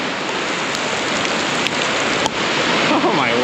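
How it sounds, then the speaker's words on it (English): Heavy rain pours in a dense, loud, continuous hiss on a building, with a faint whooshing swirl near the end. "It is pouring."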